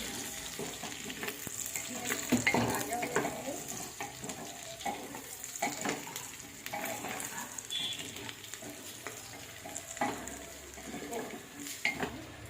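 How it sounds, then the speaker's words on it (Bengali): Onions frying in a pressure cooker with whole cloves and cardamom for khichuri, a steady soft sizzle broken by stirring scrapes and occasional clinks of a utensil against the pot, with faint voices in the background. "পেঁয়াজ ভাজা হচ্ছে এর মধ্যে কিছু গরম মশলা দেওয়া হলো লবঙ্গ আর এলাচ"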